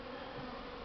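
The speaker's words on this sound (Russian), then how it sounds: "пчелы уже чисто на облет вышли." Honeybees buzzing in flight on a spring cleansing flight near hives, a steady, continuous drone that holds evenly and fairly close throughout, with no voices.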